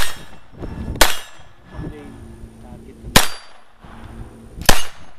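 Three sharp metallic clacks from a Beretta Neos pistol being loaded, spaced a second or two apart, close and crisp over low background murmur.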